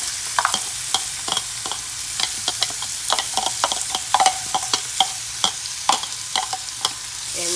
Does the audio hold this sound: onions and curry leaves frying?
yes